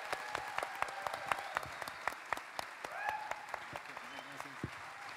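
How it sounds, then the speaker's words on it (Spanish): A film festival panel audience claps for a panel member, scattered claps sounding fairly faint and sparse in the room, with a voice briefly speaking over them. "al que voy a pedir un enorme aplauso"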